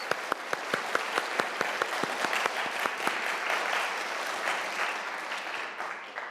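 A symposium audience applauds to welcome family members, opening with a few sharp, separate claps that quickly build into a full, steady round before easing slightly.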